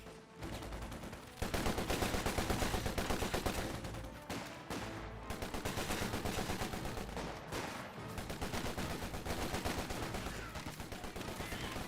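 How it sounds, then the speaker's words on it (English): Two Bren light machine guns firing in the Company of Heroes 2 strategy game, rapid sustained bursts of automatic gunfire with brief pauses, loud and dense throughout. "It does have 2 Brens firing."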